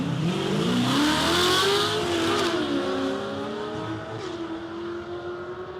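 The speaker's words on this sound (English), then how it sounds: "You can hear the chirpies as he throws that clutch out on each shift." A manual drag car launches hard at a raceway, engine roaring loud and close as it pulls through the gears, with short tyre chirps on the shifts before the sound fades as it moves away.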